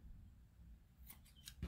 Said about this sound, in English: I'm going to fold it to that length and then cut.